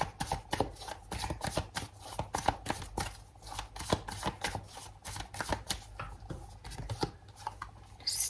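Tarot cards shuffled by hand up close, a steady run of quick crisp riffling snaps and slaps repeating at a brisk, slightly uneven rhythm, quiet and without talk.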